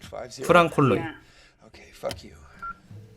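A man trapped underground dials the State Department on a mobile phone, with brief keypad tones sounding near short bursts of tense speech.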